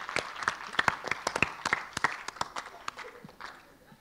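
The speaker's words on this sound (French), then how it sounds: "C'est bon, on peut applaudir Marie-France quand même." Scattered, sparse clapping from a small audience honoring Marie-France at a talk, individual claps distinct and uneven rather than a full ovation, fairly quiet with some room noise.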